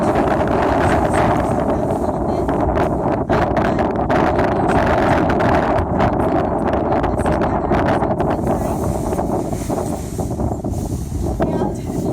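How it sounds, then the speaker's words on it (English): Strong wind blows steadily outdoors on a windy day, a loud continuous rush buffeting the microphone with gusty rumble throughout. "so on a windy day like this"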